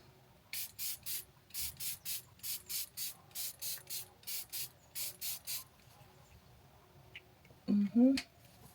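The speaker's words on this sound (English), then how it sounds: "I'm using the Fenty You Mist to set it finally." Fenty setting mist sprayed onto a face in a quick run of about fourteen short, evenly spaced hissing pumps, close and fairly loud, followed by a pause and a brief burst of voice at the end.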